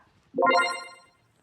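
A short electronic phone ringtone chimes once, bright and clear, rising quickly and fading out within about a second.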